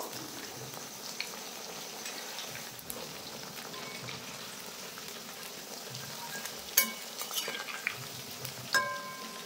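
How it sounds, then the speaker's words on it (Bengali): Chicken pakoras fry in hot oil with a steady, soft bubbling sizzle throughout, punctuated near the end by a few sharper clinks and taps as the pieces are turned over. "এই পকোড়াগুলোও কিন্তু উল্টে পাল্টে লাল লাল করে ভেজে নিয়েছি"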